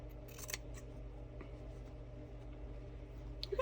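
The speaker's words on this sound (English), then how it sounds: "I'm gonna trim this piece off." Scissors trimming a piece of book cover material in a quiet room, with a few soft, brief snips spread across the clip.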